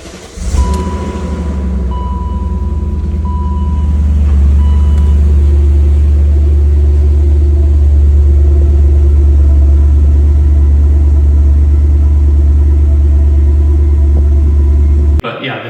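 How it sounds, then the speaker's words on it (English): BMW E39 M5 V8 with a Dyna exhaust cold starts: a brief crank, then a deep, loud, steady rumbling idle that swells slightly and holds for about fifteen seconds, close to the car. "just the sound of the V8 is incredible, which I think I have a cold start clip that I can get to"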